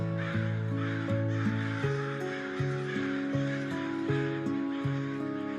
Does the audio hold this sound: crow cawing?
yes